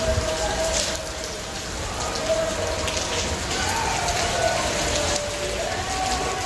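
Steady rain falls outdoors during a wet spell near a rural home, a dense continuous patter with no voices, holding an even level for the whole stretch.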